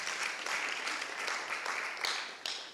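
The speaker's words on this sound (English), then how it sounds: "A round of applause for him" Audience applause at a health summit forum in Tanzania, a fairly quiet, continuous spread of clapping from the room with a few sharper individual claps standing out.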